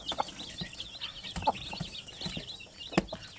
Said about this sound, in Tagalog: So excited na tayo sa paglaki nitong mga sisiw na ito.